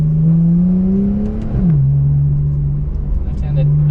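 A Porsche 991 engine revs and drops pitch during a downshift, the tone climbing then falling to a steady drone, close and loud inside the cabin, with people talking over it.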